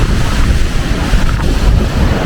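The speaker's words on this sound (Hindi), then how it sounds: "चिया लेक से पहले इस तरह का काली नदी का फॉल है, भयंकर रूप, भयंकर गर्जना।" The Kali river waterfall near Dharchula roars as a loud, steady broadband rush of churning water, continuous and close, with some wind buffeting the microphone.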